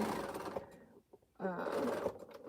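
Sewing machine stitching a quilt seam in two quick bursts separated by a short pause, quiet and close.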